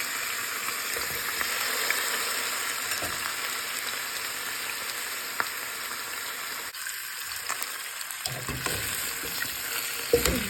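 Adobo frying in a pan with a steady, bright sizzle throughout, broken by a few louder crackles and spatters near the end; no voices.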